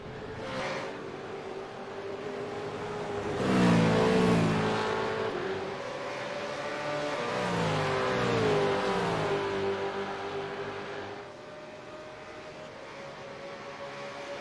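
V8 Supercars race cars, including a Mustang, rev hard on the Michelin Raceway Road Atlanta circuit. Loud, close engine notes rise and fall as cars sweep past in succession, with sustained roaring and shifting pitch and no voices.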